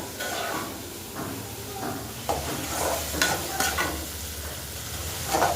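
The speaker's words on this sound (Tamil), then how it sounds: "தக்காளி போட்டு நல்லா வதக்கி விட்டுக்கலாம்" Tomatoes sauté in a hot pan, a continuous sizzle broken by scraping stirs and clinks of the spoon, close and moderately loud, with no talking.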